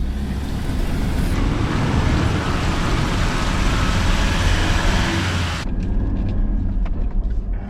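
A broken-down four-wheel drive on the Old Telegraph Track in Cape York pulls away once its rear end is unhooked: loud, close engine roar and rough road noise over gravel, easing off toward the end.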